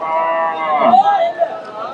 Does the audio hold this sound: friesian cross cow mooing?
yes